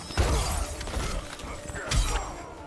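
A glassy shatter effect from a down-2 combo in the Injustice 2 fighting game, two bright crashing bursts about two seconds apart over a busy, continuous bed of game effects, close and loud.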